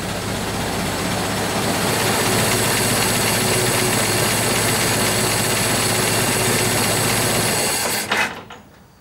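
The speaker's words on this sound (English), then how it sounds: "the wheel has stopped, engine's still running, so we're good to go" Ford Model T engine idling in a cold shed after starting, a loud, steady mechanical drone with fast rattling and whirring that holds constant for about eight seconds and then cuts out abruptly.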